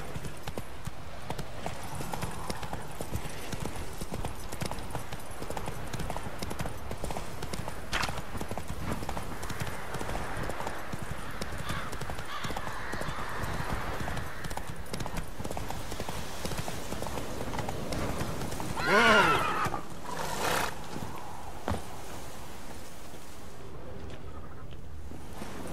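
Horse galloping in The Witcher 3 video game, a steady rhythmic clip-clop of hooves with a brief whinny partway through, under game ambience and faint voices.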